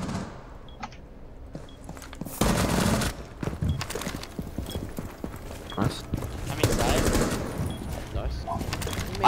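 Rapid bursts of automatic gunfire crackle in a Rainbow Six Siege match on PC, loud and dense in several clusters, mixed with lighter clicking and rattling game effects.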